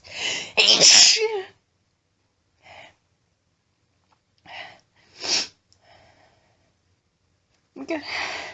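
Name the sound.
strong sneeze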